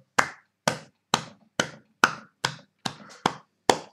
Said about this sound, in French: Applaudissez mes frères et sœurs.